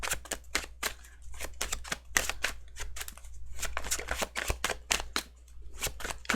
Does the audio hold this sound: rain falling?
no